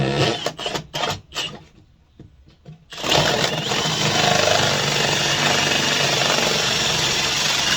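A power drill cuts a circle through sheetrock for a ceiling fan, a loud continuous buzzing grind that runs steadily for about five seconds after a few short stop-start bursts.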